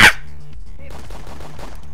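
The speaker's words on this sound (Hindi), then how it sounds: "तुम लोग क्यों गोली चला रहे हो" A loud, sharp gunshot from a video game roleplay set in a Red Hot Vengeance western world, followed by a busy, lower rumble of game ambience and scattered clatter.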